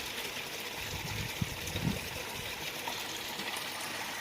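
Koi pond skimmer running, with a soft continuous trickle and gurgle of water at low level and a couple of faint low knocks, no voices.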